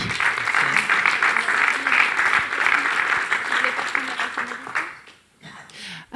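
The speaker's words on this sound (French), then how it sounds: "On peut peut-être simplement avant applaudir les 3 intervenants" Audience applause for three panel speakers at a round-table event, a dense steady patter of many hands that fades out near the end, followed by a brief pause before a voice begins.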